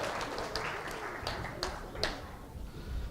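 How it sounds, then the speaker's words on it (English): Scattered applause from an audience after a self-defense demonstration, with a few sharper, distinct claps standing out above a light, uneven patter. "Let's give him a round of applause."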